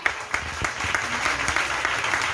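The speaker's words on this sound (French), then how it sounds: "Est-ce que tu peux acclamer le Seigneur?" A church congregation claps and cheers loudly together, a steady wash of applause that fills the room without pause.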